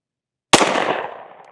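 A single sharp pistol shot rings out after a moment of silence during an Echelon 4.0C and Glock 19 Gen 5 comparison, close and loud with a brief reverberant tail.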